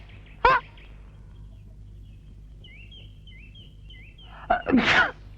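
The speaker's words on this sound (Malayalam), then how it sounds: "എന്തൊരു തുമ്മക്ക" A person sneezes twice, loud and close. The first sneeze is short and sharp, and the second, a few seconds later, is longer and more explosive. Faint chirping trills are heard in the quiet gap between them.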